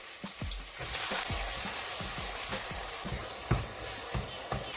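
Onions frying in a pan for Senegalese thiéboudiène, a steady close hiss and crackle with repeated soft stirring thumps and scrapes throughout, moderately loud and alone.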